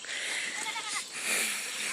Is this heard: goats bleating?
yes